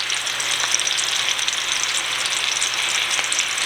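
Meatballs on the fatty side brown in a pan for a crockpot dish, giving a steady, loud, close sizzle of frying fat with a low hum beneath and no talking.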